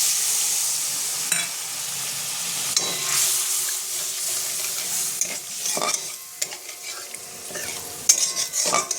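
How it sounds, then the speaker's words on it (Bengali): Water goes into a frying spice paste for fish curry, giving a steady hiss and sizzle with stirring scrapes and a few sharp clinks of a spoon against the pan. Nobody speaks. "এবার আমি এর মধ্যে জল দিয়ে দেবো পরিমাণ মতো।"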